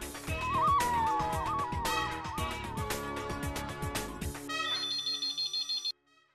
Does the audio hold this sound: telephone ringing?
yes